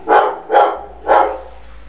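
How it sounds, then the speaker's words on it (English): A dog gives three loud, close barks in quick succession, evenly spaced about half a second apart, with a faint low hum in the background and no talking. "My dog."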